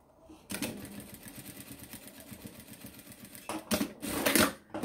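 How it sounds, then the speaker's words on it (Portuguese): A sewing machine stitches bias binding around a small fabric pouch for carrying a charger and earphones, a steady rhythmic whirring run with louder bursts toward the end. "vou continuar costurando o meu viés"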